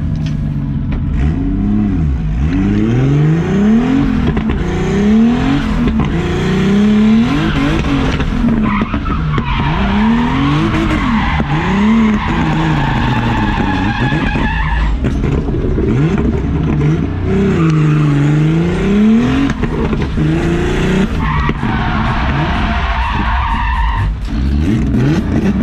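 A drift car with a bigger turbo engine roars loudly and continuously, its revs rising and falling in repeated surges while the tires squeal through long skids, with no talking.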